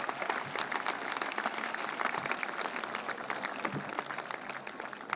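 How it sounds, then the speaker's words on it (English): Graduation ceremony crowd in a large hall applauding, dense steady clapping from many hands, moderately distant and even, with no speech. "You can give them a round of applause."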